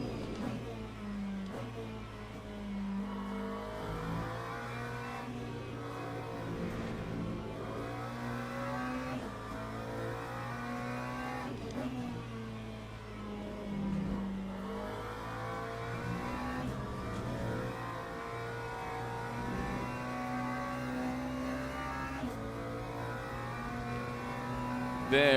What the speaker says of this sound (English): Progressive downshifts at Spa, which certainly seems to speak my language.